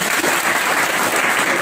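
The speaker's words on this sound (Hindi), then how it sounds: "ताली बजाओ इनके लिए।" Students in a classroom clap for a classmate, a brief burst of dense, loud applause from the group, close and continuous for under two seconds.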